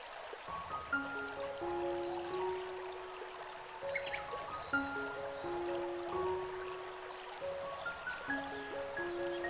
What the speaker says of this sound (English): The sound of water trickling over old stone introduces an immediate sense of peace.